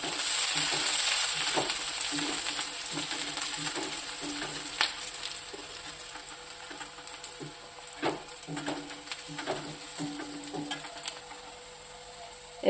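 Garlic frying in a pan for kochu shaak, an initial loud hiss of oil settling into a steady sizzle punctuated by repeated clicks and spatula taps, close and alone without speech.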